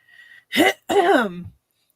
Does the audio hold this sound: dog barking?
no